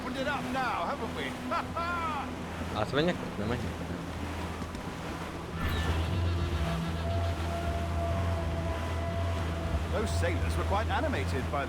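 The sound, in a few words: sailing a ship in the video game Assassin's Creed 4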